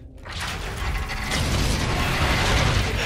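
A heavy door mechanism in Call of Duty: Infinite Warfare grinds and creaks open with ratcheting, gear-like clanks, starting after a brief pause and growing into a steady, loud mechanical rumble with no talking.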